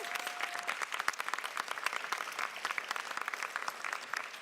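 An audience at a university student leadership awards ceremony claps steadily for several seconds, a dense and even patter of many hands heard alone without any voices.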